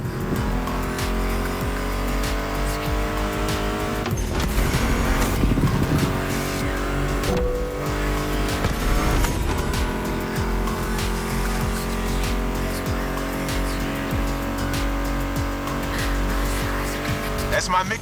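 American muscle cars race in The Crew Motorfest, with a loud, continuous engine roar and bursts of tire squeal as they skid, heard under a steady tonal soundtrack for the whole stretch.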